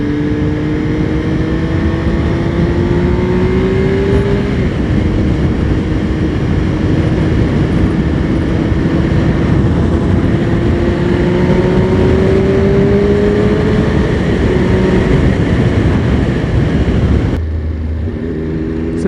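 A Benelli Tornado Tre 900 triple-cylinder sport bike pulls steadily through the revs, its engine note rising in smooth sweeping tones as it climbs, loud and continuous with road and wind rumble beneath, then dropping abruptly near the end.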